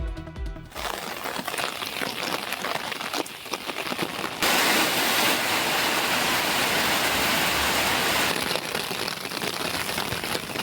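Moderate rain falls steadily outdoors, a dense hissing wash of drops that grows a little louder partway through and holds evenly to the end, with no voices.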